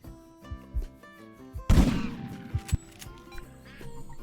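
A single loud shotgun blast while hunting birds in Idaho, sharp and close, followed by a decaying echo and some quieter thumps and rustling afterward, with no talking.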